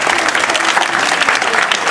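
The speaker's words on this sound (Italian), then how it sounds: "Elisa merita proprio questo applauso prolungato da parte vostra." Loud, dense applause from a concert audience after a village band performance in Migliandolo, continuous close clapping filling the whole stretch without letting up.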